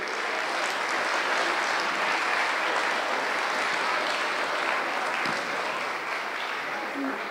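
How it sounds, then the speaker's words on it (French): An audience applauds to welcome guests, sustained dense clapping from many hands filling a hall, steady and loud throughout. "Est-ce qu'on peut les applaudir pour les accueillir?"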